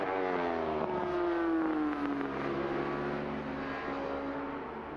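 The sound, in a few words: F1 sidecar racing outfits engines at Brands Hatch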